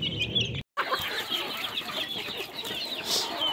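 Several chickens and growing chicks of mixed ages cluck and chatter steadily on a farm, sounding close and fairly loud, with brief higher calls above the flock and no one speaking.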